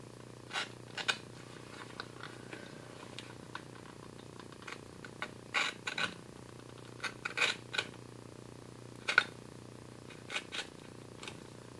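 Leather being cut for a one-piece tomahawk sheath: a string of short, crisp snips and scrapes at irregular intervals, close and moderately quiet, with no talking.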